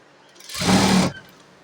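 A sewing machine runs one short continuous burst, stitching a folded quarter-inch hem on a blouse, fairly close and steady, then stops.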